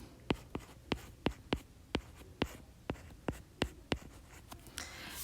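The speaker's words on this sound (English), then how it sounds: "I'm going to go ahead and write the formula." Pen strokes as a formula is written out by hand, about a dozen sharp, evenly spaced scratches and taps, close and fairly quiet, with no talking.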